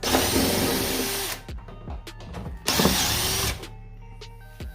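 A power tool whirs in two loud bursts removing bolts on a 1963 Ford F100, with clicks and clatter between them, close by and without speech.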